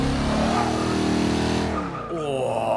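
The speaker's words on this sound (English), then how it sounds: "Oh, that noise. You can't beat a Jaguar V8." The V8 of a Jaguar XKR-S GT in Forza 6 rumbles deep and loud, then tires squeal briefly as the engine note drops and shifts, close and without talk.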